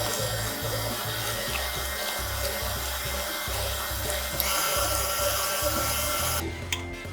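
An electric mixer beats cookie dough after an egg goes in, a steady whirring motor with a fluctuating, churning low rumble as the beaters work through the dough, continuous and close.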